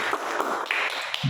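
A church congregation clapping hands in praise to God, a brief burst of scattered claps over roughly a second, moderately close, with no voice over it.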